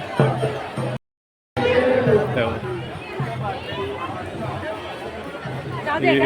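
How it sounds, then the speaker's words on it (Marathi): A crowd of devotees queueing for darshan at a temple fills the air with a steady, dense babble of overlapping voices and chatter, close and continuous, broken by one brief gap of silence. "लोक दर्शनाची गर्दी आहे बघू शकता किती लांब आहे"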